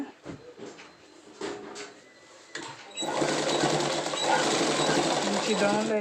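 A sewing machine stitches a pant, running in a loud, steady whirring burst after some quieter handling taps and fabric shuffling at the start.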